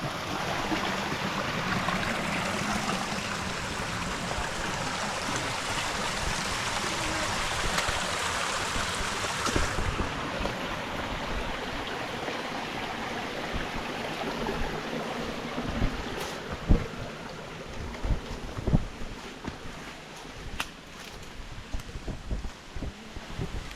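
Water rushes steadily from a jungle waterfall and stream, a broad, continuous roar heard from nearby with wind buffeting the microphone and occasional footsteps and knocks as someone moves about.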